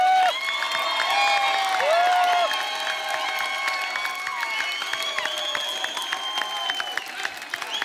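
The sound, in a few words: audience applause welcoming Salman Khan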